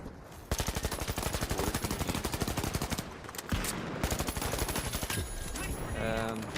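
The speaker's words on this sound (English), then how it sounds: "shooting at the wall in the firing range" Rapid automatic gunfire hits a wall at a video game firing range, a dense rattling stream of shots with a short pause midway, then more sustained firing, loud and close.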